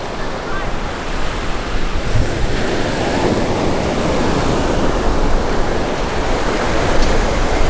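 Ocean surf breaks continuously on a beach along the Noosa National Park coastal track, a loud, dense, steady wash of waves with some wind across the microphone and no talking.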